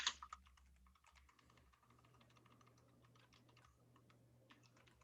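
Steady, quiet typing on a new computer keyboard, a continuous patter of light key clicks heard close up in a calm room, with a faint low hum underneath.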